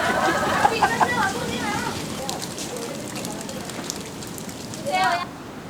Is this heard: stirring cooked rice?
no